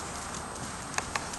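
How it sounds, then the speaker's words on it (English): A heavy rescue draft horse of about 1,700 to 1,800 pounds trots on a circle, giving two muffled hoof strikes close together over steady background noise. "Look forward on my circle and ask him to trot."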